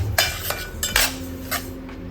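Barnyard millet (bhagar) being dry-roasted and stirred in a pan, heard as a few close scrapes and light clinks of a utensil against the pan over a low kitchen hum, with no talking.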